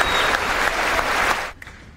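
Applause in the US Congress during Prime Minister Modi's address: a dense, loud burst of clapping from a large crowd that cuts off sharply near the end.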